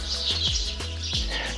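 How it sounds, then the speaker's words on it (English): Birds chirp in short high bursts over a steady low hum, with a few soft lower thumps mixed in, in the hill village of Casares, Málaga, Spain. "Can you hear the birds chirping?"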